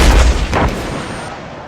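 A loud anti-tank rocket launcher blast during army training, a heavy low boom up front that decays into a long rumbling tail, with no voices over it.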